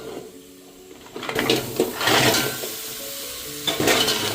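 Stuffed Malvani crabs being stirred in a pot, scraping and clattering against the metal over a bright sizzle that swells in bursts, close and fairly loud.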